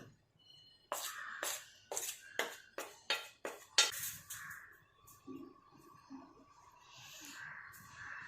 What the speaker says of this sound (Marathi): आता पुन्हा एकदा हे सर्व चमच्याने मिक्स करून घ्यायचं।